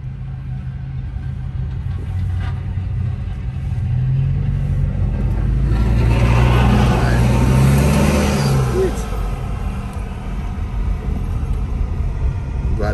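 A car engine runs steadily after snow chains were refitted on a snowy Big Bear Lake road, a low rumble that swells in the middle as it revs, with faint voices in the background.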